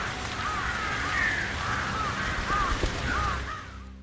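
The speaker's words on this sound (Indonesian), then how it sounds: "Setelah semuanya pergi, terlihat di atas rumah Rohman dipenuhi gagak" Crows caw over a house in a series of harsh, repeated calls, several birds answering one another over a steady outdoor background noise, fairly close and with no talking.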